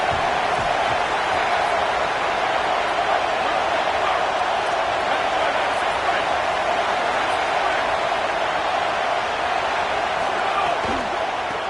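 A home crowd roars steadily throughout a college football game, a dense, continuous stadium din with scattered shouts and a commentator talking over it.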